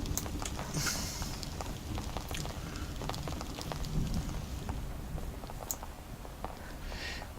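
Rain in the video game Will to Live Online, falling steadily as a dense patter of drops on surfaces, continuous and moderately loud, with a few sharper taps scattered through it.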